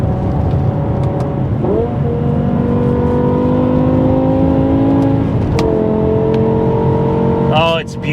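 A V10 BMW M5 engine hums and rises in pitch while driving, with steady tonal revs shifting through gears and a brief sharper rev near the end, close and loud.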